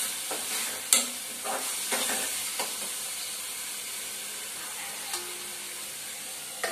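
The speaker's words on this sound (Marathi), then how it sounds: "आता हे चांगलं आपण मिक्स करून घ्यायचं आणि चांगलं तेल येईपर्यंत आपल्याला परतून घ्यायचं" A spiced mixture sautéing in oil in a pan, a steady hiss and sizzle punctuated by several sharp spatula scrapes and clinks spread across the clip.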